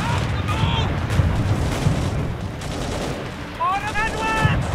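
Battlefield gunfire from Company of Heroes 3 rattles in dense bursts of machine-gun and rifle fire over a rumbling din, with shouted soldier voices mixed in throughout.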